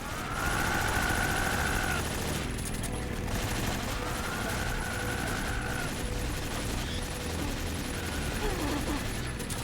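Rapid automatic gunfire from Metal Gear Solid 3: Snake Eater rattles steadily for nearly ten seconds, dense and loud with siren-like whines rising over it at times.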